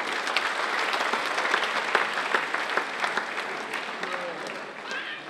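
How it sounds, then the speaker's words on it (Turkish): Audience at a Tashkent show applauding, a dense continuous roll of clapping with some crowd murmur mixed in, steady and fairly loud from start to finish. "Genel sözü Özbekistan Türk Milli Medeni Merkezi Reisi Ömer Salman'a alkışlarınızı da veriyorum."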